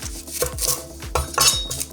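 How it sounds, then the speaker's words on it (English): A knife chops the ends off an onion on a cutting board, a few sharp close knocks with light clinks and no talk. "Now let's deal with this onion. The way I like to peel these is you just cut off the ends here."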